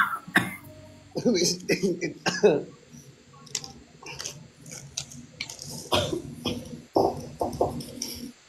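A few short, sharp coughs scattered among quiet talking and small clicks nearby.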